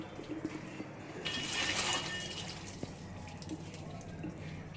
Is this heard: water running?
yes